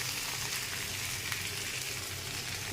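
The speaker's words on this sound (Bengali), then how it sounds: "কলাটা 3 মিনিট দিয়ে তেলে ভাজা ভাজা করে নিচ্ছি" Banana pieces frying in hot oil in a pan, a steady soft sizzle running evenly throughout, faint and unbroken, with no voices.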